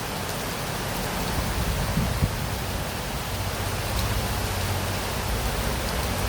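Steady rain pours down in a dense, even hiss with no voices, constant throughout.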